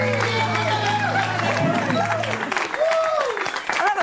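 An audience applauds and cheers for a band at a Sundance Film Festival party, a dense wash of clapping and crowd noise starting together with music and then continuing under it.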